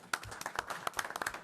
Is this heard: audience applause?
yes